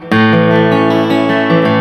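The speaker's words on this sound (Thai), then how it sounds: "อันนี้คือเสียงที่ผมเล่นผ่านตู้แอม" An acoustic-electric guitar played through an amplifier rings out with sustained, bright chords, loud and close, the notes blending into a full, slightly processed tone.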